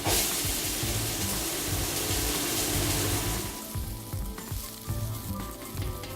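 Scallions and onions frying in oil in a home kitchen pan, a loud dense sizzle that softens partway through into a quieter crackle with light stirring.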